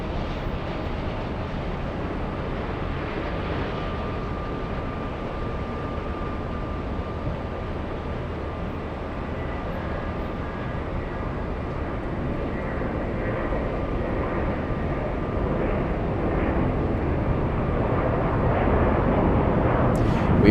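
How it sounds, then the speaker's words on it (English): A Boeing 777-300ER arriving from Frankfurt lands at JFK, heard from a distance as a broad, low jet rumble with a faint steady whine. It grows gradually louder and heavier toward the end, with no voices. "We have the 777-300ER landing in just a few seconds."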